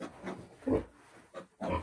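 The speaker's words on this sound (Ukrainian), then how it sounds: "після того, як поросята отримують укол" Piglets squeal in distress after a vitamin injection on a farm, several short separate bursts of squealing with brief pauses between them, moderately loud and close.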